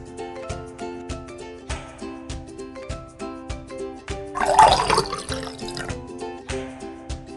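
Water poured into a clear glass, heard as a short splashing, gurgling burst about a second long partway through, over a steady background of music.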